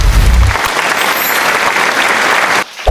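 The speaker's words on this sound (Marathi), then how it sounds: "जय साठी जोरदार टाळ्या" Loud applause for the winner of a math-and-reasoning ladder board game at a school activity, dense steady clapping filling the space for a few seconds before cutting off abruptly.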